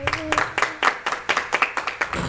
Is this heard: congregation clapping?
yes